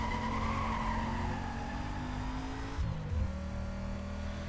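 Engine of an EVAG 4002 bus modded into Need for Speed: Most Wanted, a steady loud droning motor with rising rev tones, a brief dip and shift near the end, tyres faintly squealing.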